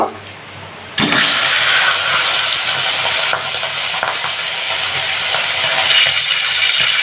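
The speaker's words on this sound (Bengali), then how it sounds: "তেল গরম হয়ে গেছে, এবার আমি মাছগুলো একে একে দিয়ে দেব।" Rohu fish pieces dropped one by one into hot oil in a wok, setting off a loud, steady sizzle that starts abruptly after a second of quiet and carries on close and unbroken.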